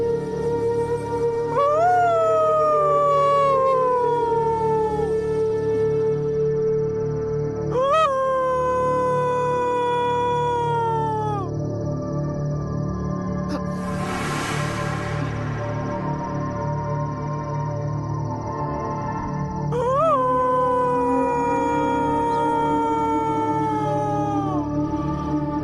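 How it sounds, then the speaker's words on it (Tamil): A dog howls at night in long drawn-out wails that rise and then slowly fall, three separate howls with pauses between them, loud and close over a low steady background hum. "என்ன இந்த நேரத்துல நாய் ஊழையிடுது?"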